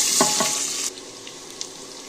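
A loud, steady hiss of onion hitting hot oil in a pressure cooker, with a few stirring scrapes early on; the sizzle drops sharply partway through, leaving quieter crackles.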